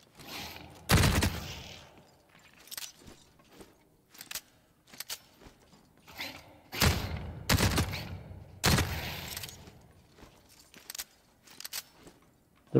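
Rusty PDW gunfire in The Cycle Frontier, sharp bursts of automatic shots fired in uneven clusters across the clip, loud and close, with quieter game sounds between volleys.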